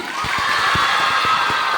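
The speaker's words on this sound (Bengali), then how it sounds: "মেয়েরা অসাধারণ গাইলো, সবাই একটু জোরে হাততালি।" Audience cheering and whooping for girls' singing at a live event, a steady crowd roar with faint claps inside it, brief and fairly loud.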